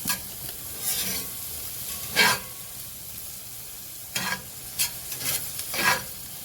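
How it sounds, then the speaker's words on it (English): Spaghetti squash bake sizzles in a skillet, a soft steady fry punctuated by several scraping stirs that come in short bursts, close and clear with no talking. "We like the sound of stuff frying."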